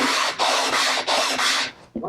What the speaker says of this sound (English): we want to sand that until all the paper's gone